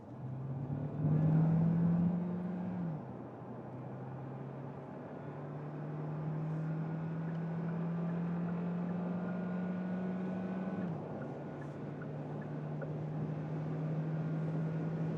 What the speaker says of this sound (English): we can do an acceleration from 50 kilometers an hour